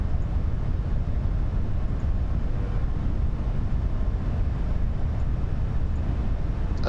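Boeing 737 engine noise heard from inside the cockpit during descent: a loud, steady broadband roar and rumble that continues unbroken with no talk.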